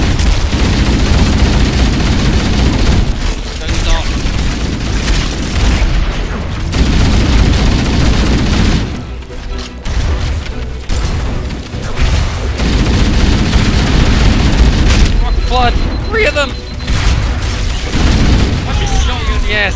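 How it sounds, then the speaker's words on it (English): Grenade blasts and gunfire in a Halo campaign, with heavy booms and rattling bursts that roll on almost continuously and drop off for short quiet gaps. A player talks over the combat. "Halo grenades don't go off till they hit the ground"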